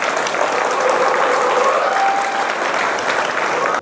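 An indoor audience at an MMA event applauds a referee with sustained, loud clapping that stays dense and even for several seconds before cutting off abruptly.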